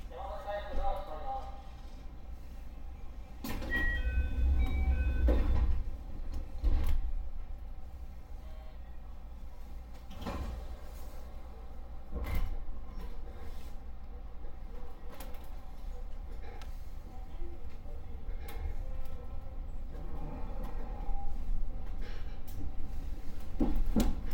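JR 221 series train at Kyuhoji station, with a door-closing chime, thuds of doors shutting, and a low rumble as the train pulls away, amid station ambience and faint background voices.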